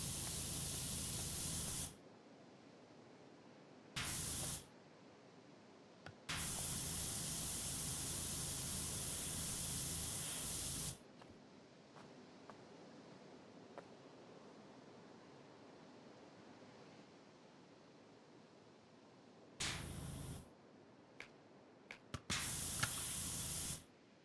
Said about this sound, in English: It's not a very powerful nozzle, but it